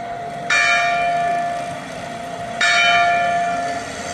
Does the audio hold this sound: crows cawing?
no